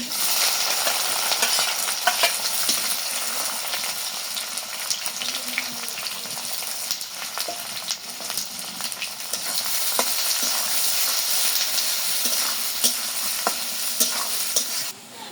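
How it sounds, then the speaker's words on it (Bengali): Meat frying in oil with bay leaves and onions for biryani, a steady close sizzle with occasional stirring scrapes running throughout without pause. "মাংস কষানোর জন্য তেল দিয়ে দিলেন, তেজপাতা দিয়ে দিলেন, পেঁয়াজ দিয়ে দিলেন"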